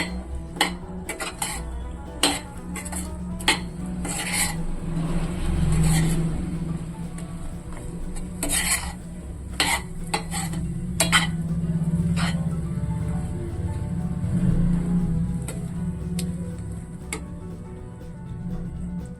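Gram flour with grated coconut is mixed in a metal vessel for a sweet, producing sharp irregular clinks and scrapes of a utensil against the pot over a low steady hum.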